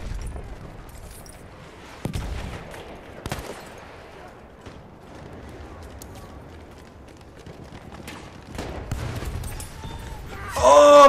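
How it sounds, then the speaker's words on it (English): Mortar rounds and gunfire in a Battlefield 1 match, a few sharp booming impacts scattered across the stretch with a rumbling battle bed beneath, growing louder toward the end. "Oh my god, freaking mortars"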